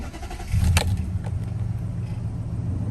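A 2008 Nissan Titan SE pickup truck engine cranks and catches, then settles into a steady low idle rumble close by.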